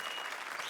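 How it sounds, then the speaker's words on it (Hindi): Studio comedy show audience applauding, a brief burst of dense clapping, faint and distant. "तालियां बजाओ।"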